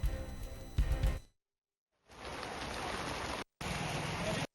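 Unseasonal rain falling on an open market yard where harvested grain lies in the open, a broad steady wash of rainfall heard in stretches broken by short cuts.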